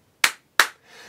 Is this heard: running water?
no